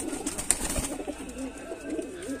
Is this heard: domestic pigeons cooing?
yes